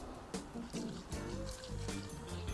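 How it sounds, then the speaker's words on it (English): A Pecan Pie Manhattan cocktail poured over ice into a double rocks glass, a brief liquid trickle with faint clinks of ice, close and quiet, with short bursts of background sound. "we're going to just pour it over ice"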